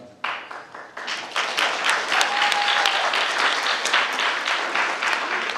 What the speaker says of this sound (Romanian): Încă o dată aplauze pentru Ivu